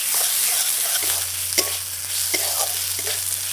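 Chicken filling with capsicum lightly frying in a pan, a close, continuous sizzle with occasional stirring clicks and scrapes and a low steady hum underneath, no talking.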